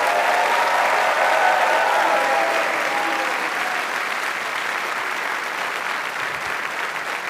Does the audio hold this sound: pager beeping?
no